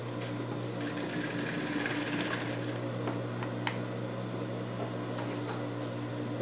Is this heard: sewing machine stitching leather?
yes